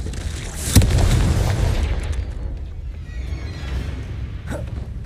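A Confringo blasting spell explodes in Hogwarts Legacy, a single sharp boom near the start that decays into a rumbling tail, with a smaller pop toward the end.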